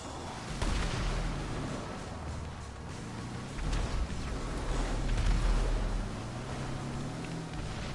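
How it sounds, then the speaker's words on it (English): Distant explosions in Grand Theft Auto 5 rumble as low, muffled booms under a constant windy roar, rolling in at irregular intervals. "You fucking hear them explosions?"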